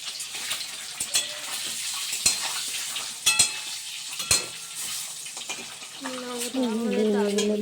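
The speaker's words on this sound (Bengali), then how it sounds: "ডিমটাকে ভালো করে ভেজে নেবে লাল লাল করে" Eggs frying in oil in a pan give a close, crackling sizzle, broken by sharp clicks and scrapes of stirring, with a brief tonal whine near the end.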